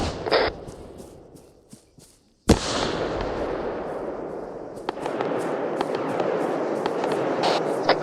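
A grenade detonates with a sharp, loud blast in a military video game, followed by a long rolling rumble and scattered crackles, after a few quieter clicks and thuds.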